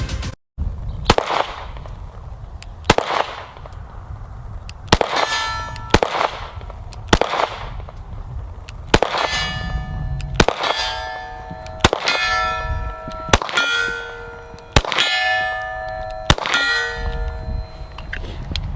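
Taurus GX4 pistol shots fired at steel targets: a string of about a dozen sharp, loud reports, each followed by a ringing metallic clang from the struck steel, spaced irregularly one to two seconds apart with no talking.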